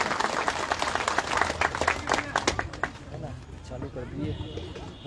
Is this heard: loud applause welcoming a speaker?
yes